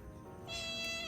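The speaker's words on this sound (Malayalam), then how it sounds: "ഇത് മിട്ടു പൂച്ച, ഇത് സാങ്കളി പൂച്ച." A pet cat lets out one short, fairly faint meow that rises in pitch partway through, heard close by against a quiet background.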